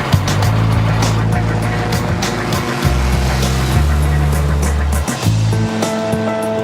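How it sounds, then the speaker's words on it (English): Rotax 4-cylinder engine of an Apollo Jetstar microlight plane droning loudly and continuously, a steady engine hum with shifting pitch and rushing wind noise throughout. "these machines can fly 2 men with a powerful Rotax 4-cylinder engine"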